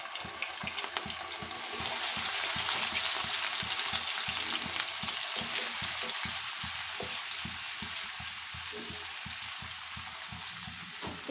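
Onion and garlic paste fry in hot oil in a pan, giving a dense, steady crackling sizzle that continues throughout with rapid spattering pops.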